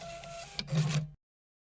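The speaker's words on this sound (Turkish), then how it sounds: "Bunu yazdırayım." A printer in the video game Office Simulator gives a short mechanical whir and click of printing, quiet and alone, then cuts off abruptly to silence.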